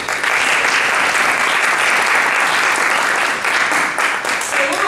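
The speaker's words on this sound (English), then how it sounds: "So again, we should give you all a round of applause." Audience applause for inductees at a university honor society induction ceremony, a full, dense round of clapping held steadily at close range for several seconds.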